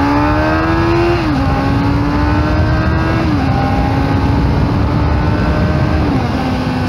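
A Kawasaki Z750S motorcycle with its original exhaust accelerates hard, its loud, close engine note climbing and then dropping at each of several gear shifts in a continuous run.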